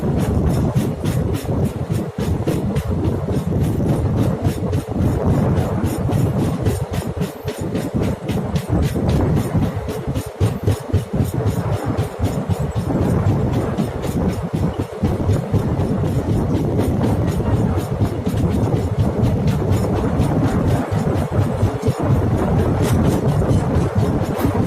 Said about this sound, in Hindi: ट्रेन पूरी कर्व ले रही है इस टाइम पे।